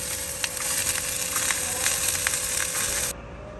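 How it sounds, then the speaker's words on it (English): Onion frying in a pan over high heat, a steady bright sizzle with faint crackles and pops, close and continuous for about three seconds before cutting off abruptly. "we put the pan on the high heat, and then after that we add the onion into the pan"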